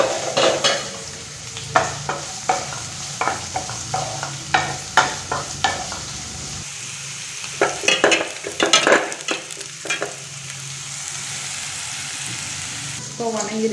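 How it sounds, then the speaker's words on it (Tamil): Curry leaves, chillies and onion sizzle in hot oil in a pan as a tempering for rasam, with a steady frying hiss and repeated scraping clinks of a spoon stirring against the metal. No one talks. "இது அளவுக்கு கருவேப்பிலை, மிளகாய், ஆனியன் எல்லாமே சேர்த்து வச்சு தாளிச்சிடுவோம்"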